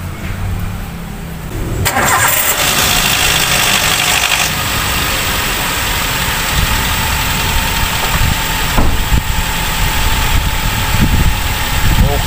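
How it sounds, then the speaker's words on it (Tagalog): A car engine is cranked and fires up after a spark plug and air cleaner replacement, a short quieter lead-in before the loud catch, then a steady close idle with occasional knocks and rattles. "Okay, start na po natin ang engine."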